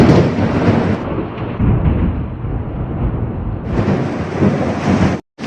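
Heavy rain roars steadily while deep rolls of thunder rumble through it, swelling and easing, before a brief sudden drop to silence at the end.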